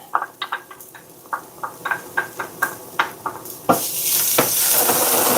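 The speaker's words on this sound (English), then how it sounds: "We're gonna throw in our garlic and get that aromatics going." Garlic goes into a pan of caramelizing onions. A quick series of light taps and stirs leads into a sudden, sustained burst of loud sizzling frying.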